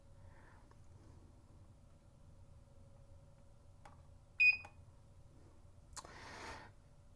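A few short electronic beeps from an exercise machine keypad with faulty buttons, a quick pair of tones followed by a brief buzzy burst, over a quiet low hum.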